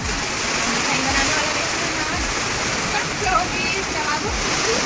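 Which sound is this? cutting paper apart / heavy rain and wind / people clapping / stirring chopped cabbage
heavy rain and wind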